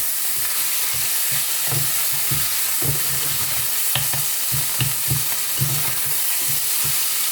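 Sausage filling stir-fried in a pan for homemade sai ua, sizzling steadily with repeated scraping strokes of a spatula against the pan, close and loud with no talking.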